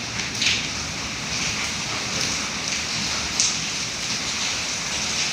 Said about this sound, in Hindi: लकीली बारिश हो रही है, आपको आवाज़ आ रही होगी